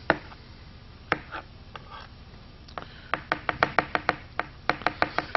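A knife chopping mushrooms on a board for veggie burgers: a few scattered cuts, then a quick run of crisp, regular taps, close and clear with no talking over them.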